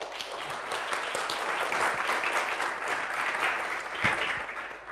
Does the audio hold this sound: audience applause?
yes